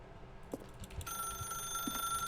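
A telephone rings in The Stanley Parable video game, a steady electronic ring with bright, sustained tones that starts partway in and keeps going, clear and close, after a few soft clicks.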